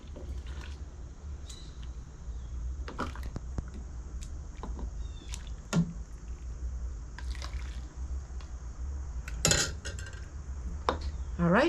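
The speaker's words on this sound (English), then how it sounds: "So we're gonna go ahead and put these in the jars and then get them in the canner." Homemade relish being spooned into glass canning jars, with scattered clinks and scrapes of a metal spoon against glass and bowl over a low steady hum, a few louder knocks near the end.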